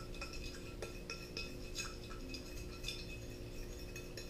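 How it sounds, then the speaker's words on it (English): A spoon clinks steadily against a bowl while olive oil and sesame oil are stirred into a marinade for small snapper on the barbecue, with light rhythmic taps and no talk. "Mix that up a bit."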